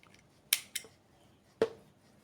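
Scissors snip crochet yarn in a few sharp, close cuts: two quick snips, a pause, then a third crisp snip in an otherwise quiet room.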